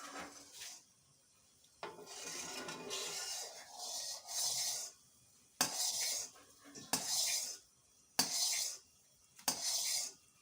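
A spoon scrapes and stirs butter in a pot over low heat as it cooks down into ghee, giving about seven quiet, separate scraping strokes with short silent pauses between them.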